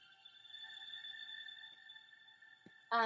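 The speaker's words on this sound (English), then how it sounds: "my husband's alarm is going off" A phone alarm rings steadily with a sustained electronic tone in a quiet room, holding for several seconds before a louder burst cuts in at the end.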